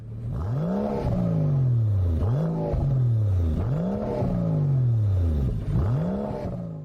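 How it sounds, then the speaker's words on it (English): A V12 race sedan's engine revs repeatedly through its exhaust, recorded close to the tailpipe: four strong rising-and-falling rev cycles, loud and continuous, with no talk. "Let's hear how V12 sounds."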